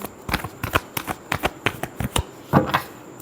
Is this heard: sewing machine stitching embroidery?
no